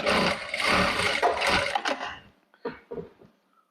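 Jack A4 straight-stitch sewing machine running a short burst of stitching, a loud close whir that stops after about two seconds, followed by a few light clicks and handling sounds.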